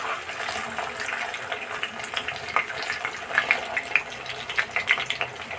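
Paneer pieces are dropped into a bowl of cold water, giving soft, faint splashes and small watery plops in an irregular run.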